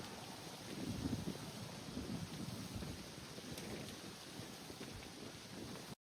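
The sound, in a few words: ice crackling in trees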